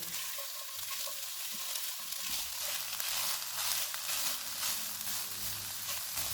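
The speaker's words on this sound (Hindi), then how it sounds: "इनको 3 से 4 मिनट तक भूनेंगे।" Chicken spring roll filling, seasoned with black pepper and soy sauce, frying over low to medium heat with a constant bright sizzle, close by, along with soft stirring movements and no voices.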